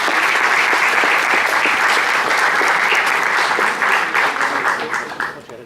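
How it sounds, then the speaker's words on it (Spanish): An audience at a tech conference event on big data and fake news gives a speaker a long, loud round of applause, dense and sustained before tapering off at the end. "un aplauso muy grande para Adrián Mola, por favor."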